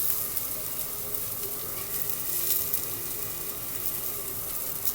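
Two sausages fry in a pan, giving a steady, close crackling sizzle with no pause throughout.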